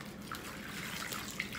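Water poured slowly and carefully from a container into an open bag during a home science experiment, giving a faint, steady trickle with a few small splashy drips, quiet and close, with no talking.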